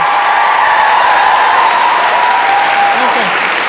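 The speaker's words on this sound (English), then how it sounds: "I think we can all give Michele a huge round of applause." A conference audience gives a loud, sustained round of applause for a keynote speaker, dense clapping filling the room throughout, with a voice briefly audible near the end.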